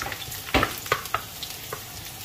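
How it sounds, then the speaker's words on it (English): Garlic and other ingredients sauté in a pan for a simple home-cooked shrimp and kabocha squash coconut stew, with a soft steady sizzle broken by a few brief stirring scrapes. "the first thing we're going to do is we're going to saute the ingredients"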